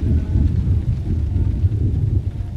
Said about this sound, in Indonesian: itu geledek. Ini geledek.